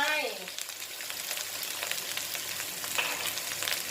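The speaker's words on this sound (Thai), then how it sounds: "ผัดพริกให้หอมนะคะ น้ำมันไม่ต้องใส่มากนะจ๊ะผัดพริกค่ะ" Chili stir-fried in a pan with a little oil for pork and bean stir-fry, a steady close sizzle with brief scrapes of stirring; a voice is heard faintly at the start.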